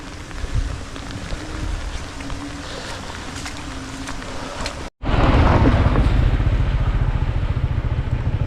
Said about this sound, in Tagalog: Ayaw pa rin tumigil ng ulan.